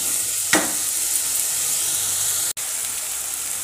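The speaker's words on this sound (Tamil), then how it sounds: "நல்லா ஒரு 5 மினிட்ஸ் இந்த மாதிரி நம்ம வதக்கணும்." Chopped tomatoes sauté in a pan for Maggi masala pasta, giving a steady close sizzle with a brief stirring scrape and a momentary dropout.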